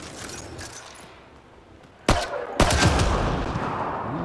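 Two sharp gunshots ring out in Mass Effect Andromeda as the player fires at small objects, loud and close after a quiet ambient stretch, followed by a lingering rumbling tail.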